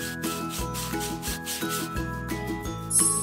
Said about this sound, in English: we will scrub the plate until we remove all the remains and leave it shiny